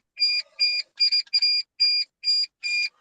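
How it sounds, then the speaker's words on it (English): Electronic beeping from a game controller in short, evenly spaced bursts, about eight of them, each a bright two-tone chirp with clean silence between. "The hell is that beeping?"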